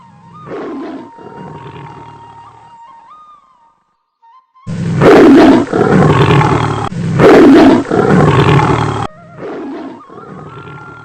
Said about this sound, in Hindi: हे भगवान, ये बाघ कहाँ से आ गया?